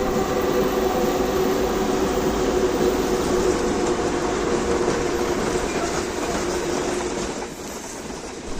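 A train rolls past nearby with a loud, continuous rumble and rhythmic clatter of wheels on rails, easing off slightly near the end.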